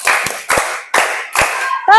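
Children in a Grade 5 classroom clap in a counted pattern during an ice-breaker game, with four loud group claps evenly spaced about half a second apart, followed by a brief voice at the end.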